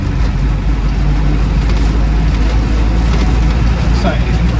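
Land Rover Lightweight with a 200TDi diesel engine driving on the road, a loud continuous low rumble of engine and road noise filling the whole stretch.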